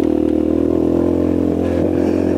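A Fratelli Xe 125 motorcycle labors uphill in second gear on a rough dirt trail, its engine droning loud and close with a steady buzzing tone and some clatter.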